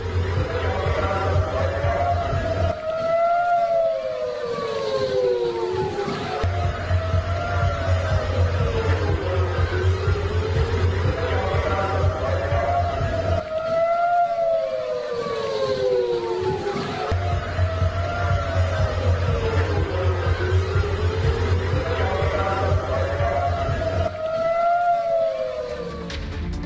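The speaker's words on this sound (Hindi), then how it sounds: "सायरन की आवाज आपको सुनाई दे रही है।" A wailing air raid siren in Israel rises and falls in long repeating cycles, loud and steady, with a low hum and distant background noise beneath it.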